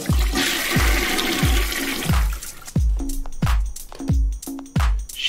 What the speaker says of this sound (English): I'm flushing the toilet.